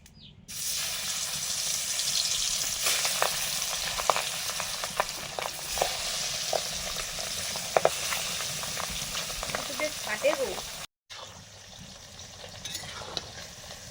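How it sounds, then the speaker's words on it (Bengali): Pabda fish frying in hot oil in a dim, enclosed village kitchen, a dense steady sizzle and crackle with occasional spatters, cutting off abruptly near the end before a quieter tail. "মাছগুলো ভাজবো"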